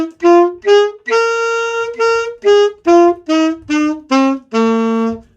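Alto saxophone plays the G blues scale in about ten distinct, close, loud notes, with short gaps between most of them and a longer held note near the end.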